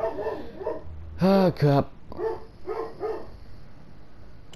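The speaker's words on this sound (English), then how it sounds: "my dog is barking" A pet dog barks nearby in a home, two loud sharp barks followed by softer yips and whimpers, with a person talking over it.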